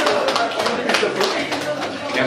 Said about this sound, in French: Applaudissez pour lui quand même.